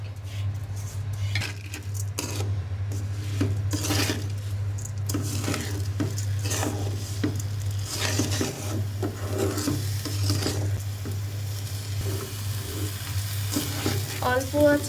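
Rice and moong dal for vegetable khichdi are stir-fried in a pan: a continuous dry scraping and rubbing of the spatula over a light sizzle, close and even, with a low steady hum underneath and no speech.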